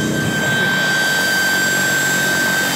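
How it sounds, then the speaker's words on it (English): Steady whirring rotor and engine noise, loud and constant throughout with a high whine on top, like a small helicopter running close by. "The helicopter is actually handling really well."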